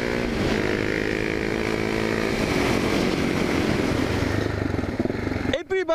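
A Yamaha MT-07 motorcycle engine roars loud and close in a continuous drone as the bike rides off, mixed with rushing wind. The sound cuts out abruptly near the end.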